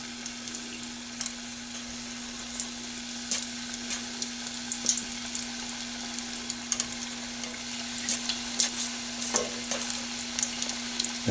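Bisquick-battered banana pieces fry in a pan with a steady oil sizzle and scattered crackles and pops, continuous and close over a constant low hum.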